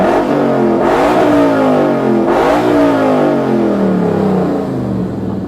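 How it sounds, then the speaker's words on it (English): A Ford Boss 302 Mustang V8 revs up loudly and close by in two strong throttle blips that climb and fall, then settles into a sustained high-rpm drone, with no talking. "Give it a couple revs. Let's hear it."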